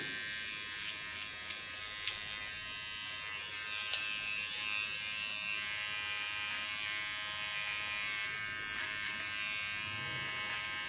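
An electric hair clipper buzzes steadily and close while it sharpens the contour line of a haircut, a constant whine with a few faint clicks.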